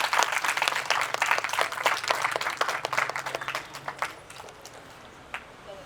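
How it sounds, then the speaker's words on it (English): Audience clapping at an NGO annual day celebration, a dense round of applause that thins out and fades to scattered claps by the end. "One round of applause from all."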